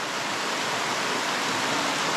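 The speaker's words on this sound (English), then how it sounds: "It's a nice little waterfall." A small waterfall in a mossy area beside a mountain trail in North Cascades National Park gives a close, steady, even rush of falling water.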